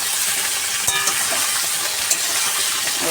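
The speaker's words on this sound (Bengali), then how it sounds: "একটু ভালো করে ভাজা ভাজা করবো।" Pumpkin and potato pieces fry in hot oil with onion and garlic, giving a steady dense sizzle with faint stirring scrapes from close by.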